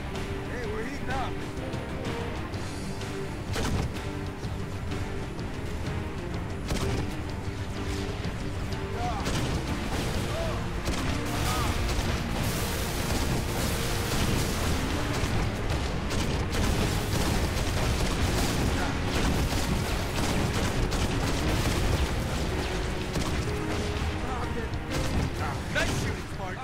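Sustained combat din from the video game Halo Reach, with gunfire, mechanical clatter and booming explosions running densely throughout, occasional voices in the background.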